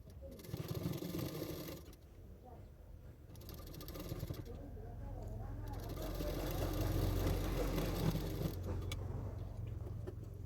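Sewing machine stitching a fitting seam on a blouse, a fast mechanical whirring rattle that runs steadily and fairly close, sometimes briefly pausing, with a voice talking over it.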